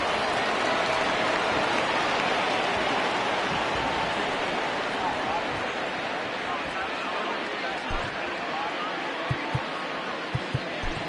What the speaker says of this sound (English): Well, the rain starting to intensify here. It's coming down a little heavier now.